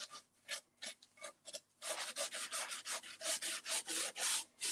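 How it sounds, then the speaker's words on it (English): Gentle abrasive finishing pad rubbed over an old rusty metal file cabinet, a close rhythmic rasping of repeated back-and-forth strokes that grow louder and steadier after the first couple of seconds. "So the finishing pad, it's a very gentle abrasive"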